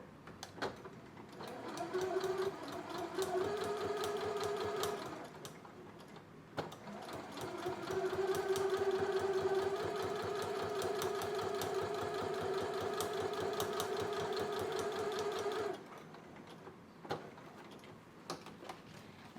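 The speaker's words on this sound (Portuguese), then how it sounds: "E agora, com tudo regulado, é hora da gente começar a costurar." A sewing machine stitches fabric for a basket organizer, running in two close, steady mechanical bursts: a short run, a brief pause, then a longer continuous stretch before stopping.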